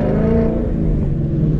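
A Mustang GT with a Corsa Xtreme cat-back exhaust accelerates hard, giving a steady, loud, deep engine drone that holds its rumble throughout with no pauses.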